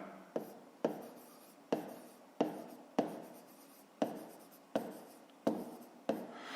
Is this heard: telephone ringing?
no